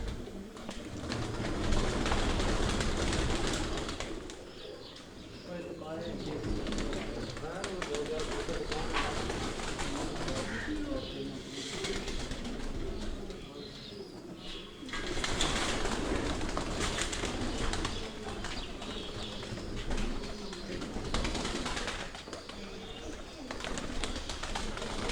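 Pigeons of the Teddy breed in a Kharian fancier's collection coo softly and steadily, nearly buried beneath continuous close conversation throughout.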